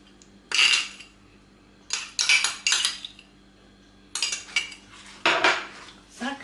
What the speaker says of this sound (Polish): Mieszamy z sokiem z cytryny.